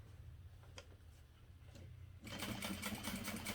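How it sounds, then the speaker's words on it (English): A sewing machine runs in steady bursts, stitching a large box and X pattern across a medium parachute-fabric knapsack about 1/8 inch from the edge; the close mechanical whir starts soft and grows louder and faster near the end. "I'm just going to sew one huge box and X across the whole thing"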